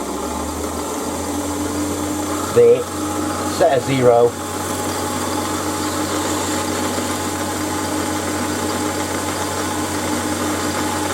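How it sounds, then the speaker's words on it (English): A drill running on a lathe, boring into a workpiece for a home-made tailstock DRO, gives a steady mechanical hum in a workshop throughout, with someone speaking briefly over it. "So what I'll do, I'll just start the drill up"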